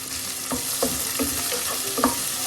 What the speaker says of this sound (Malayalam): എല്ലാം നന്നായി ഒന്ന് വഴറ്റുക.